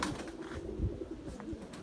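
A pigeon coos softly, a few low throaty calls close by, against a windy outdoor background.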